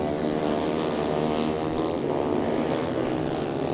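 Engine of an ice racing car droning loud and steady on a frozen lake track, a continuous buzzing roar with shifting pitch and no break.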